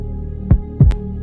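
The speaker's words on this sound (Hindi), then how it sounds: "एक मेरे दिल की धड़कन" A heartbeat in a tense, quiet moment: two deep, close thumps about a third of a second apart, over a low steady hum, with no voices.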